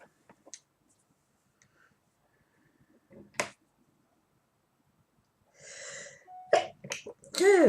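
A single sharp sneeze bursts out midway, followed by breathy sniffs and a few throaty vocal noises at the end.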